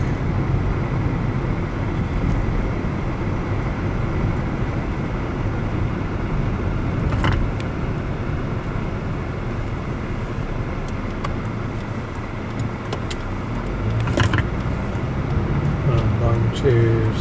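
Steady, dense interior road noise inside a moving Kia car, a constant low rumble and hiss that holds at an even level throughout, with occasional faint knocks and no clear voices.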